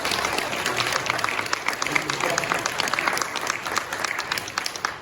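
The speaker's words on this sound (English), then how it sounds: "Let's go ahead and give a round of applause for it." An audience at a panel discussion gives a round of applause, a dense steady patter of many hands clapping that tapers slightly toward the end.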